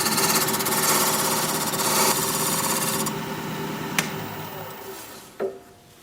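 A wood lathe smooths the bottom of a turned wooden cup with a steady, dense scraping whir. Near the end the motor winds down, a sharp tap sounds, and the noise fades.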